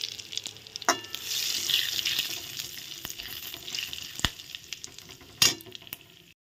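Whole cardamom, cinnamon sticks, cloves and cumin seeds sizzle and crackle in hot oil, a steady frying hiss with a few sharp clinks of a utensil against the pan, no voices.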